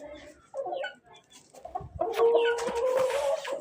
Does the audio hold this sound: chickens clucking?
yes